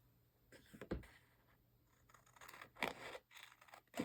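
Scissors snip through stiff cardstock in a few scattered crisp cuts, close and fairly quiet, with brief scratchy rustles between them.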